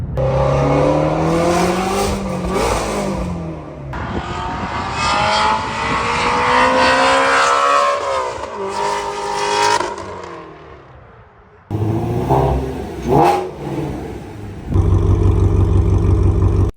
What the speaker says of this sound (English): let me know how you think the new exhaust setup sounds